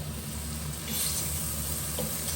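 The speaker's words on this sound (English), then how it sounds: "put in my just pre-blanched noodles and let them to just mix through with the veg" Pre-blanched rice noodles tossed through vegetables in a hot pan give a steady, close sizzle with faint stirring scrapes, running continuously without any talking.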